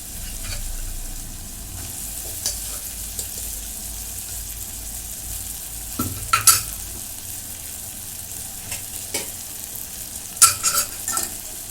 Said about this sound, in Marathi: चवळी मी अशी थोडीशी मॅश करून घेते